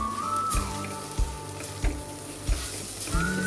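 A dal ingredient fries lightly in a pan with a soft continuous sizzle, broken by a few regular knocks of stirring against the pan.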